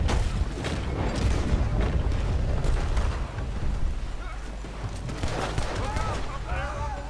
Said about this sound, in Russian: Они стреляют из здания.